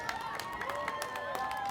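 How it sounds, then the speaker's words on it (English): Faint, scattered applause from a crowd in the stands at a high school track and field league finals meet, honoring the Portola relay team; soft claps rise and fall steadily at a distance, with a voice lingering in the background. "Let's give a big round of applause here to the guys of Portola."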